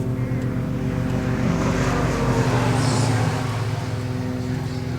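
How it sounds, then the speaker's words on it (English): A motorcycle engine drones past outdoors, a steady harmonic hum that swells slightly in the middle and then eases, moderately loud and continuous with no talk over it. "Here comes a guy on a motorcycle"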